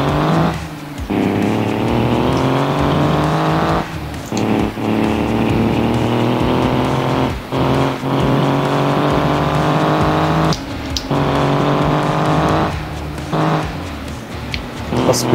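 In a roleplay racing video game, a high-tech race car's engine drones loudly and continuously, its pitch climbing and dropping with brief gaps at gear changes, while someone talks over it.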